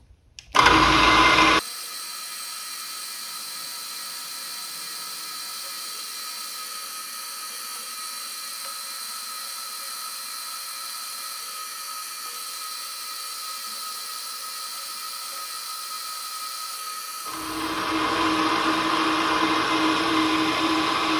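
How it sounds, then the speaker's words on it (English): A steady, high-pitched machine whine runs continuously for a long stretch while drilling holes in brass, bracketed by louder bursts of grinding at the start and end. "now it's just a matter of marking and drilling holes"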